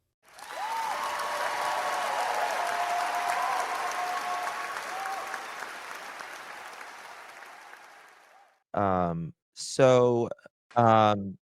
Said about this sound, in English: Sucks hearing that damn applause, doesn't it?